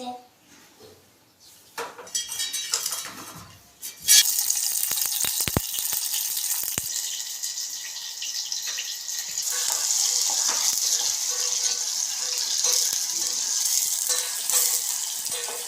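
Chillies and tomatoes for Maggi noodles frying in a pan, a loud steady sizzle that flares up suddenly and runs on continuously with occasional clinks and stirring, close and dominant with no talk.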